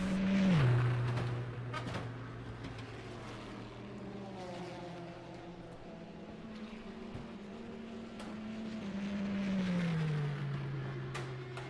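An Audi R18 race car engine in the rFactor video game at Le Mans, a droning whine that climbs and falls with gear changes, steady and moderately loud with no talking.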